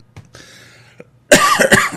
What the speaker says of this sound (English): There's another cough for you.